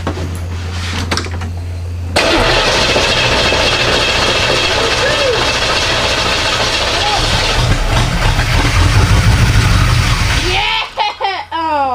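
Corvette engine cranks and fires up after a fuel pump refit, running loud and steady with a rough idle for about nine seconds before cutting out and falling quiet; voices can be heard faintly over it.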